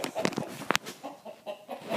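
A rooster indoors in a litter box gives a few short, soft clucks and squawks close by, with one sharper burst partway through over quiet room noise.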